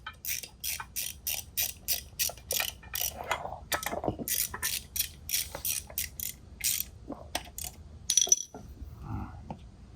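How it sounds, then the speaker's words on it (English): A ratchet clicks in quick repeated bursts while tightening an air bag on a 2022 Ford F-450 Super Duty, with a few louder metallic clinks near the end, close and distinct with no talking. "Get our ratchet on here"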